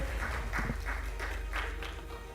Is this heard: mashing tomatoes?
no